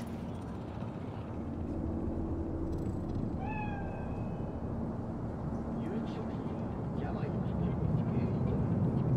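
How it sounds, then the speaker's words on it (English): A cat in the video game Cyberpunk 2077 lets out a brief meow partway through, faint against a steady ambient city hum. "So, it's a cat like any other."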